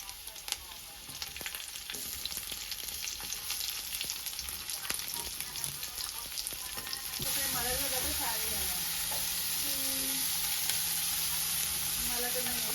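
Onion frying in a pan over heat, a continuous close hiss of sizzling with scattered sharp crackles and pops, growing a bit louder and brighter partway through, while faint vocal or tonal sounds drift in the background.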